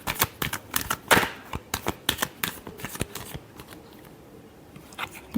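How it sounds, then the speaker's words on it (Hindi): Tarot cards are shuffled by hand in a quick series of crisp riffling bursts, close and fairly quiet, with irregular gaps between flurries and no talking. "Last shuffle."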